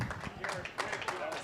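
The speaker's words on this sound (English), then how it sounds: "Give him a nice round of applause." Steady clapping from an audience at a student auction held at an auctioneering college, continuous and moderately distant, with voices mixed in.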